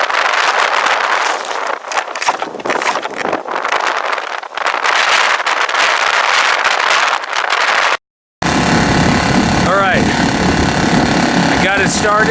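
A small outboard motor on a Hobie kayak sputters and roars loudly and close, with wind buffeting the microphone, then after a brief cut settles into a steady engine drone.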